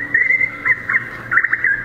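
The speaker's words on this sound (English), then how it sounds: "That is the calling of the Alaskan nymphopancrea bird." Bird call presented as a made-up Alaskan species, a series of short bright chirps and whistles in bursts, loud and close with no other sounds around it.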